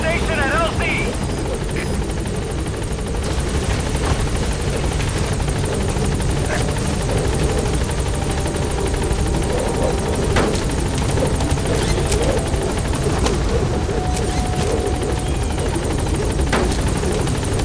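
A support helicopter arriving at a landing zone in Metal Gear Solid V, its loud continuous rotor thump and engine whine dominating throughout, with a radio voice briefly audible.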